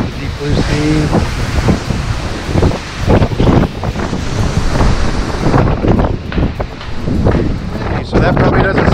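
Strong, gusty wind roars and buffets the microphone continuously on the open deck of the cruise ship Jewel of the Seas at sea, with a low rumbling wash throughout.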